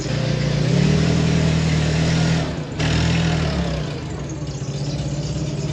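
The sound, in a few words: skid steer loader engine running on a farm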